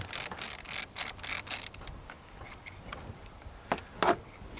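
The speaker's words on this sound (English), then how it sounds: "remove the 12mm nut on our positive terminal there" A wrench ratchets a 12mm nut loose from the positive battery terminal on a 2017 Mitsubishi Triton, with bursts of rapid clicking, short pauses, and a final pair of sharp clicks close up.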